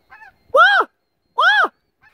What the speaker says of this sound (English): Snow goose down in the water.